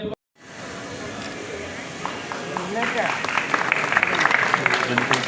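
Audience applause for a stage play performance of Ashoka Samrat, starting after a brief pause and swelling into dense, sustained clapping from a crowd, with a voice speaking over it.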